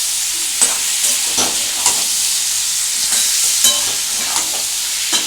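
Potatoes frying in ghee in a pan for Bengali aloor dum, stirred steadily: a loud, constant sizzle with soft scraping strokes of the spoon at a regular rhythm, close up and with no voices.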